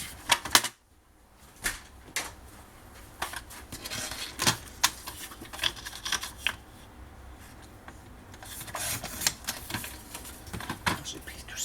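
Paper being cut by hand for a scrapbooking box project, a series of faint, irregular snips and rustles with quiet handling noises, close up.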